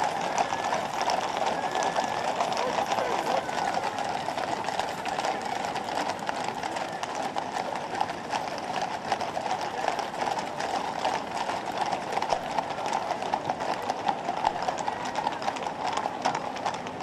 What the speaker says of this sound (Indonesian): mereka kemudian menaiki kereta upacara menuju Istana Buckingham